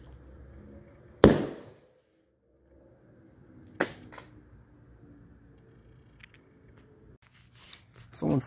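Small gunpowder charge bursting under a heap of flour: one sharp, loud bang with a quick decaying tail, followed by a weaker second pop and scattered faint clicks against low background noise.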